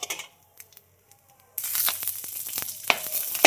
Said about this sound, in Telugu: ముందుగా అయితే పల్లీలు అయితే ఇలా వేయించేసుకోండి ఫ్రెండ్స్.